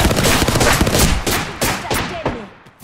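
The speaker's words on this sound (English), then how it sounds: "Listen up, I'm getting shot" Rapid bursts of automatic gunfire aimed at the player in Apex Legends, loud and close, cracking in quick succession before tapering off toward the end.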